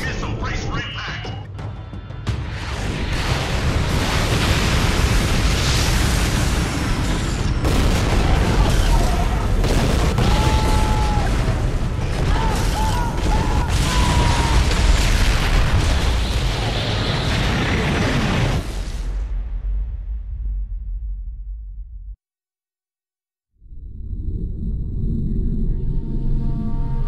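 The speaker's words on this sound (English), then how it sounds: "Incoming missile, brace for impact!" Missile impact explosions in Turok HD: a long, dense roar of blasts and rumbling debris, loud and sustained, cutting to brief silence before the game din resumes.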